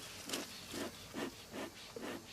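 Worker honey bees buzz around a garden beehive, with soft, faint buzzing rising and falling in about five short repeated swells.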